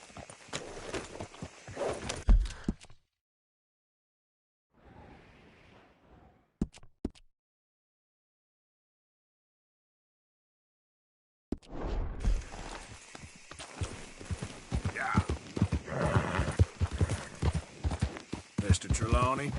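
Horse hooves clip-clop in the Red Dead Redemption 2 video game, a rhythmic thudding gait under speech at the start and over a long stretch at the end, separated by near silence.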